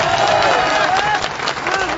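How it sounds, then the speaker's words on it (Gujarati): A crowd at a political rally in Gujarat applauds in a loud, dense, continuous wash while a voice carries over it. "હવે જોરદાર તાળીઓથી બે ભાઈનું સન્માન થવું જોઈએ."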